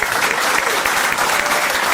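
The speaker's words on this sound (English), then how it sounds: "just a round of applause for the two lads." Dense, steady round of applause from a pub audience during a live show, sustained and fairly loud throughout with no clear voices on top.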